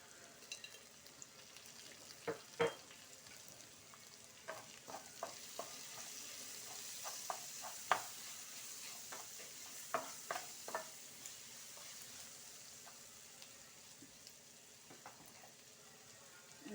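Ginger garlic paste and turmeric frying in a pan, a low continuous sizzle broken by repeated spoon-and-pan clinks and scrapes as the mixture is stirred, close and fairly quiet, with no voices.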